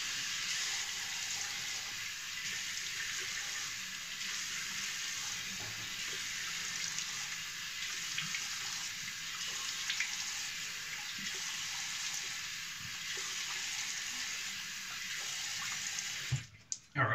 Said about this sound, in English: All right, let's rinse this off.